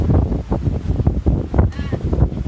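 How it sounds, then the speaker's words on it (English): Strong wind of about 20 knots buffets the microphone in heavy gusts, with rushing water and the roar of a sailboat moving at sea among the Greek islands. "it's so windy, so this is what we expected."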